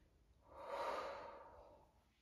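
A single long, soft breath during a quick Pilates glute workout swells and fades over about two seconds, close and alone with no speech.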